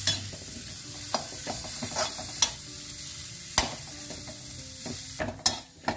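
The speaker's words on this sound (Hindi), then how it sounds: "देखिए मैं खोया थोड़ा भून गया है" Khoya (mawa) pieces frying and being stirred in a kadai for halwai-style carrot halwa, a steady soft sizzle broken by repeated scraping clicks of the spoon against the pan, close and alone with no talk.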